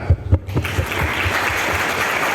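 A scout gathering's audience breaks into applause after a couple of loud thumps, the clapping building into a dense, sustained wash that fills the hall.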